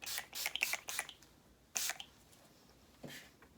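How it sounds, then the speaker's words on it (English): Several short bursts of Urban Decay All-Nighter setting spray hiss in quick succession, then a single longer spritz after a pause, close and fairly quiet. "I'm just going to be taking some of my Urban Decay All-Nighter Spray"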